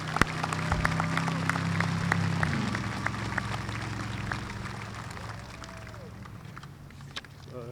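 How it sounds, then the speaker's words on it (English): An audience applauding at a high school graduation ceremony, a dense wash of clapping that swells early and then fades gradually, heard from within the hall with some crowd noise beneath it. "Let's give them a round of applause."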